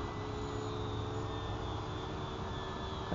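An RC airplane powered by a Saito FA-62 glow engine drones steadily in flight, a continuous buzzing engine tone holding level at moderate distance with no voices.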